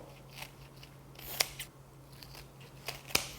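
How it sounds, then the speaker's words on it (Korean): Scissors snipping soaked dried pollock in a home kitchen, a few sparse crisp cuts at irregular intervals, faint and close in a quiet room. "가위로 이렇게 자르세요"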